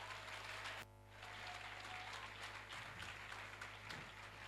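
Loud, dense applause from a church congregation acclaiming the Lord during a worship service, continuous clapping with a brief dip near the start before swelling again and carrying on to the end.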